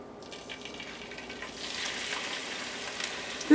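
Onion and garlic fry in a generous pool of olive oil in a pan for a tamale pie, a soft hiss that rises into a steadier sizzle midway, close and without talk.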